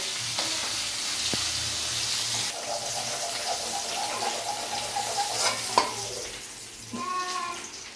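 Bhetki fish fat frying in hot oil in a pan, a steady close sizzle with occasional stirring scrapes and brief clinks of a utensil against the pan.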